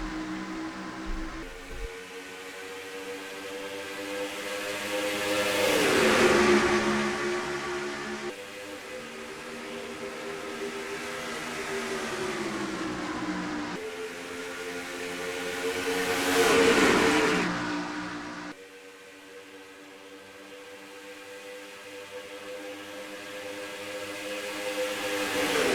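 IROC race cars thunder past as a pack accelerating on a race restart at Michigan, engines swelling to two loud passing peaks and fading into a steady roar between them, no talk.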